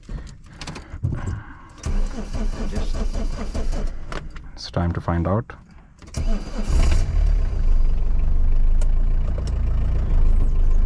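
A Peugeot 309 diesel engine cranks and catches, then settles into a steady, loud idle rumble; a person speaks briefly near the start.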